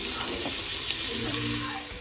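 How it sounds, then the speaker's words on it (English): Vegetables sauteing in olive oil in a pan give a steady close hiss and crackle that fades slightly at the end, with no talk. "We're gonna use some olive oil in our pan to begin sauteing our veggies."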